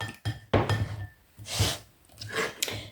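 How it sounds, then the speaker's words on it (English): Chopped onions squeezed by hand over a dish while preparing budget pork burgers, with wet crunching squelches in separate bursts and faint clinks of crockery between them. "I shall squeeze the onions out."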